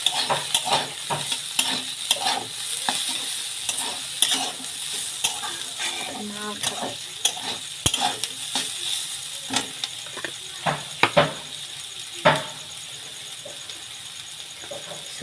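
Spices, with turmeric powder, sautéed at length in a pan: a soft, ongoing sizzle broken by repeated rhythmic scraping and clacking strokes of a stirring spoon, with no clear speech.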